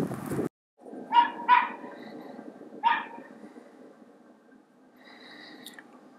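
Dogs barking, an American Eskimo puppy among them, in a few sharp bursts near the start, then another bark after a pause, over a low steady room hum with a brief squeaky yip at the end.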